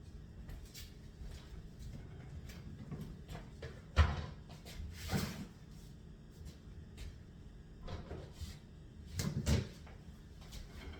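A kitchen cupboard is opened to get a pot, making quiet knocks and wooden thumps. Soft clatter and shuffling fill a dim room, with a louder bang near the end.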